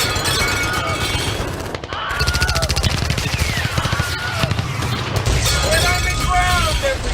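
Radio drama gunfire effects: rapid machine-gun bursts and bullet shots crackle loudly and continuously, with frantic voices shouting over the barrage.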